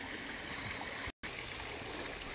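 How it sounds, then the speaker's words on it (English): Crawdad Creek's connecting stream flows steadily between five ponds toward a lake, a continuous broad wash of running water with a brief dropout midway and no voices. "what they call Crawdad Creek, the five ponds and connecting stream"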